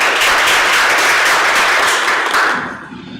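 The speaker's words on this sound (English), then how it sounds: "Please give her a round of applause." Loud audience applause at a school board meeting, dense continuous clapping that holds steady and then trails off and fades out near the end.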